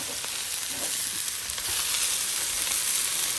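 A New York strip steak sears on a Blackstone griddle, giving a steady, close, bright sizzle and hiss with faint crackles and no talk.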